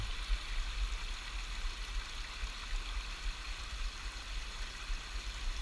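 A small creek trickles through a fern-filled hemlock forest, giving a soft, steady, distant wash of flowing water with a faint low rumble beneath and no voices.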